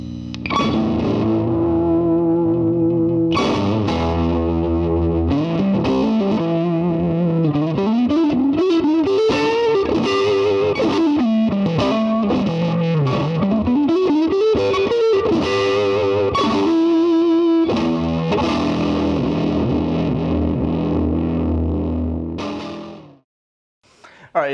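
A Vox AC30 guitar amp cranked fully with pentode on, loud, heavily distorted electric guitar playing sustained notes and sliding bends for over twenty seconds before stopping abruptly, with no talking.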